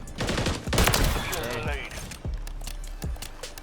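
Machine gun fire in the video game Call of Duty MWIII: rapid bursts of gunfire rattle in quick succession, loud and close, with voices talking over the shooting.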